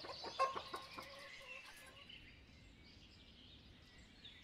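Chickens in the village-building game Ostriv cluck faintly in a few quick bursts near the start, then fade into a quiet, near-silent background.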